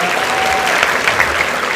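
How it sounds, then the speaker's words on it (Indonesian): An audience of university students in Solo claps for fellow students in a dense, even burst of applause that fills the short moment, loud and close, with no voices over it. "Kasih tepuk tangan dong buat teman-teman."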